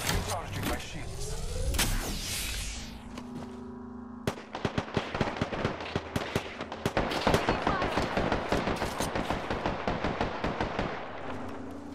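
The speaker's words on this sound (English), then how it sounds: "Getting shot at." Rapid bursts of Apex Legends gunfire crack sharply and loudly in a steady stream of shots, starting after a whooshing rush and continuing to the end.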